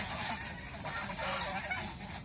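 A flock of geese honks continuously on a goose farm, a dense overlapping chorus of nasal calls filling the air at a steady moderate level.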